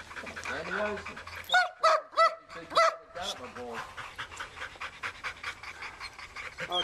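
A dog panting close by in quick rhythmic breaths, with a few brief whimpery sounds and a person speaking over it.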